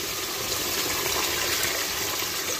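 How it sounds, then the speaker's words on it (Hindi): Water poured from a cup into handi kabab masala in a cooking pot, a steady close splashing gush that runs evenly throughout without any talking. "अभी इसके अंदर मैं डालूंगी 1 कप पानी।"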